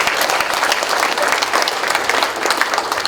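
An audience at a provincial governor's town-hall meeting with residents of Boeun County breaks into loud, dense applause, many hands clapping continuously and close.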